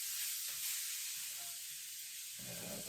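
Thinly sliced onions sizzle quietly in a pan for ramen, making a soft, even hiss that continues unbroken for a few seconds.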